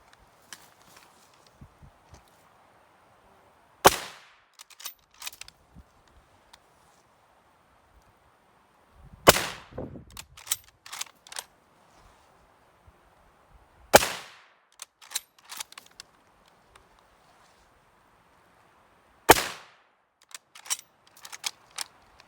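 Bolt-action rifle shots from a Mauser K98k and a Type 38 Arisaka chambered in 6.5 fire outdoors. Four sharp, loud cracks come several seconds apart, each followed by bolt clatter and small handling clicks in near silence.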